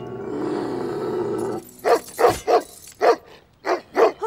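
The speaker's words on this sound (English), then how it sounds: "He's just a big, scary, irritated dog." A big, irritated cartoon dog lets out a loud run of deep, gruff barks, about seven in quick rhythmic succession, after a low rumbling growl, alone and close.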